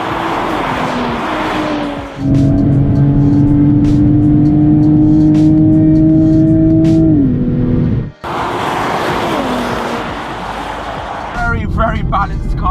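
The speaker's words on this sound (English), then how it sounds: "Supra GR. It sounds fantastic." A 2020 Toyota GR Supra's engine drones loud and steady while driving, dropping off briefly before picking back up, with a voice speaking over it at times.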